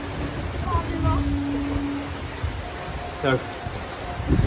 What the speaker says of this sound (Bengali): মৌসুমের প্রথম বৃষ্টিতে আমরা ফুলিয়ে মজা করছি, ভিজি কি ঝাড় দিচ্ছি।